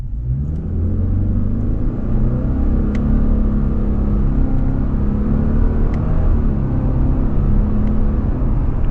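A 2026 Subaru Impreza Sport with a CVT accelerates hard in manual mode using simulated paddle shifts. The engine drone is loud, steady and close, with rising pitch and faint clicks from the shifts.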